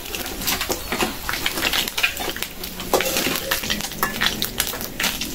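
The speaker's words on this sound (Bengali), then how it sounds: "মাছের মাথাটা আমি ভেঙে দিচ্ছি, এখন ভাজা হয়ে গেছে" Hilsa fish head frying in hot oil, a steady crackling sizzle with occasional clinks of utensils against the pan, fairly close and continuous, with no talking.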